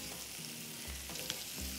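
Shallots and thawed frozen artichoke hearts sauté in oil in a pan, a soft steady frying hiss with faint stirring bumps, quiet and close, no talking.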